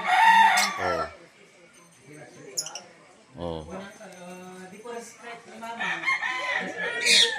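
Chickens and roosters at a game farm crow and cluck repeatedly, some calls close and loud, mixed with someone talking nearby.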